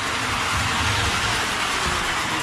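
Model steam locomotive running fast around a toy train layout, giving a steady, dense rumbling whir with faint rail clatter, close and continuous for the whole stretch with no talk.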